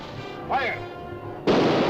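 Cannon fire in a 1945 swashbuckler pirate film, a heavy booming blast erupting near the end after a brief shouted voice, loud and close over a background rumble.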